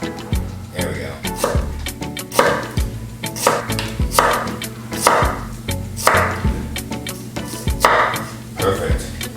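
Half an onion being chopped with a sharp knife on a cutting board, a brisk run of close, regular chopping thuds against a background of tonal music.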